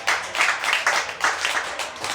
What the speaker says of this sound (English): Can we please get a round of applause for these local advertisers?